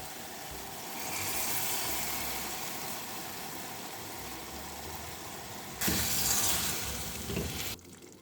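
Tomato sauce ragù with evaporated wine left to simmer over a low flame in a pan for risotto, giving a steady soft sizzle and bubbling hiss that grows louder near the end, with no talking.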